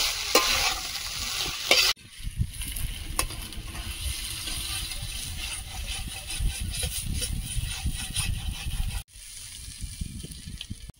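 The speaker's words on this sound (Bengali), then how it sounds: "মশলাটা দিয়ে ভালোভাবে আলুর সঙ্গে কষিয়ে নেব।" Potatoes with turmeric, coriander powder and ground spice paste sautéed in a pan, with close, rhythmic scraping and stirring over a steady sizzle, broken by two brief pauses, and no voices.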